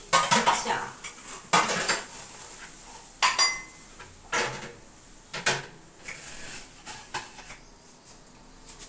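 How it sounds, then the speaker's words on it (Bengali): Tea being strained in a kitchen, with a series of close metallic clinks and clatters of utensils against pots and cups, irregular and fairly loud, with no voices. "এবার ছেঁকে দিচ্ছি চা।"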